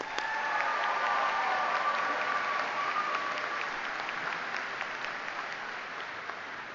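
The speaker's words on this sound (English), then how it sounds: "How about another round of applause for the amateurs?" A convocation crowd claps for the amateurs, starting as a full, steady ovation that gradually thins and fades toward the end, sounding slightly muffled.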